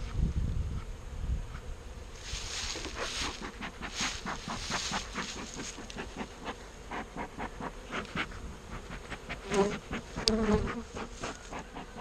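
Honey bees hum and buzz steadily around a hive while a beekeeper replenishes colonies lost over winter. The droning is close and layered with rising swells and no talk.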